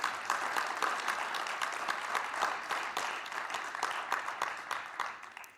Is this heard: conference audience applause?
yes